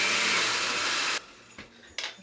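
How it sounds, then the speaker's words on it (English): A blender runs at full roar for just over a second blending fudgesicle mix with coconut sugar, then cuts off, followed by a few soft clunks and a brief knock as the jar settles. "I'm going to go ahead and blend this"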